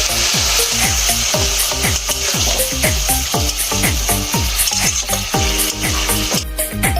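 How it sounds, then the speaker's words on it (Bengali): Banana flower curry sizzling loudly in a pan as a little water is added, with a steady rhythmic scraping and stirring and a constant bubbling hiss throughout. "এবার এর মধ্যে আমি জল দিয়ে দেবো, অল্প করে জল দিয়ে দিলাম।"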